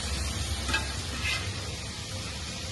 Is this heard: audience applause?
no